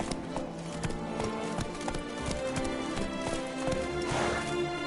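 The horse Roach gallops in The Witcher 3, a steady rhythmic clip-clop of hooves running close and loud, with game music or ambience underneath.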